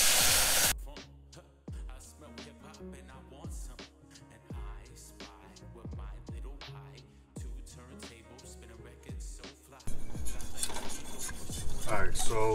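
A whisk scrapes and clinks against a pot as milk is stirred into toasted grits with browned butter and sage, a series of sharp metallic taps and rattles at irregular intervals, growing busier toward the end.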